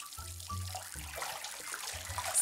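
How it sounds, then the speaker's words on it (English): Tap water runs into a sink as hands are rinsed, a soft steady splashing flow at moderate level with no talking over it. "Step 1, rinse your hand with water."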